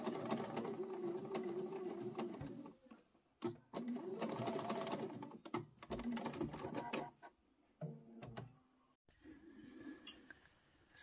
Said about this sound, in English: So we came sewing over this way, backstitched